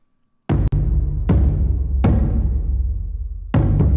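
Drums in an epic choir score with a Voxengo mid-side stereo widener engaged: a few loud, booming hits with long decaying tails, spaced about a second apart, alone without voices.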